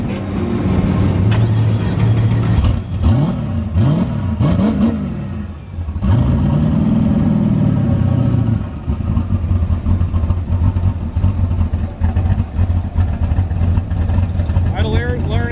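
A boosted car engine cranks and fires up, revs in a few sharp rising sweeps, then settles into a loud steady idle, with people talking nearby.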